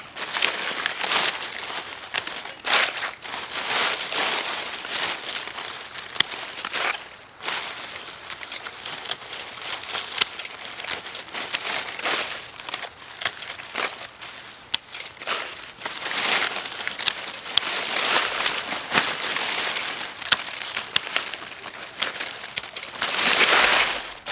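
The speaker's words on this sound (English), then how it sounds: "Here's some of those leaves that definitely need to be cut back from last year." Dry dead garden leaves from last year being pulled and cut back in a garden bed, a continuous close crinkling and crunching rustle with brief pauses, occasional faint bird calls in the background.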